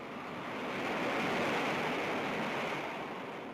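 Ocean waves whipped up by a typhoon, a continuous broad roaring surge that swells and eases slightly with no break.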